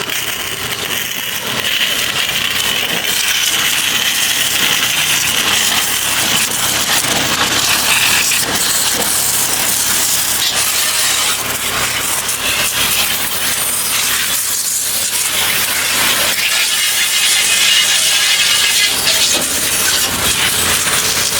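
A coin-operated carwash pressure hose blasts water in a loud, continuous broadband hiss, steady and close for the whole stretch with slight surges and no talk.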